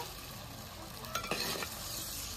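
Chicken sautéing in a pan, with a soft, steady sizzle and a brief burst of stirring scrapes midway, fairly quiet.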